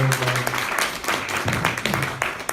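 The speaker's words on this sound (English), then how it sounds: "give her a round of applause" A crowd applauds at a service launch event with dense, steady clapping throughout, fairly loud and close.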